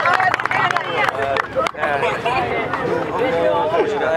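Crowd clapping and cheering for a young man eating bananas against the clock in a record attempt, continuous dense applause mixed with chatter and voices throughout, fairly close.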